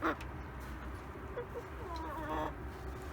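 Leghorn chickens crow and call at a distance, a few drawn-out calls over a low background hum.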